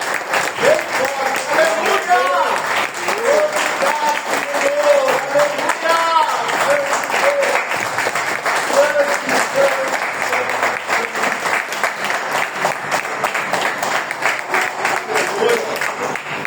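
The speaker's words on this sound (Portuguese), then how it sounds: "E eu quero que você dê uma salva de palmas ao Senhor por essa palavra poderosa." A church congregation claps for the Lord after a sermon: sustained, loud, rhythmic applause lasting many seconds, with voices calling out over it.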